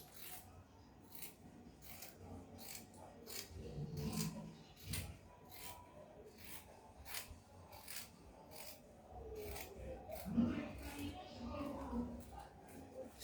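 Scissors cutting fabric for a kimono jacket, a regular series of crisp snips close by, with soft rubbing and handling of the cloth between cuts.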